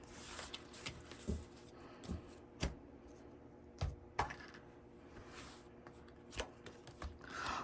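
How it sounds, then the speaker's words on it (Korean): Tarot cards shuffled and drawn by hand at close range, a series of crisp slaps and flicks spaced irregularly over quiet room tone, no speech. "마지막 카드 좀 뽑아볼까요?"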